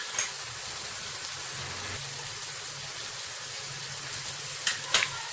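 Tomatoes and spices fry in a pan with a steady broadband sizzle throughout, a low bubbling rumble underneath and a few brief clinks of a utensil near the end; no one speaks.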